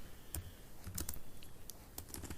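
Keys clatter on a computer keyboard in quick irregular bursts of clicks, close and fairly quiet, with no voices over them.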